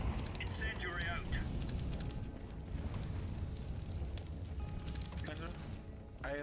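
Incendiary grenade fire burning in Counter-Strike: Global Offensive, a steady roaring crackle that fills the whole clip, with a player talking over it.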